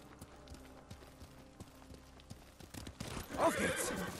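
A horse in the Ghost of Tsushima video game gives a loud whinny near the end, after steady clip-clop hoofbeats over game ambience.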